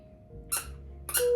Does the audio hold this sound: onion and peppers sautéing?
no